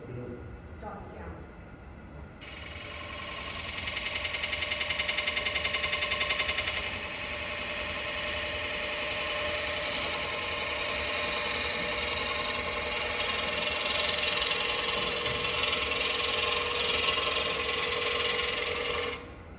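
Wood shavings peeling off a workpiece spinning on a lathe during a woodturning demonstration, a steady, sustained scraping whir running continuously for most of the clip, with a voice talking briefly near the start.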